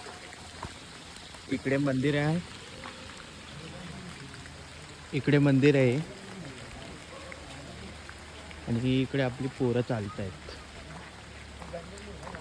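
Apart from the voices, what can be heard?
heavy rain falling at a temple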